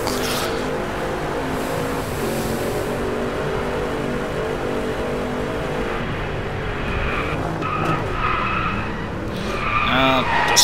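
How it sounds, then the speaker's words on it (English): A Spyker race car in the Driveclub video game drifts through a corner, with tires skidding and squealing over a steady engine drone, the skid building louder toward the end. "Of course, you just naturally have to drift around the corner."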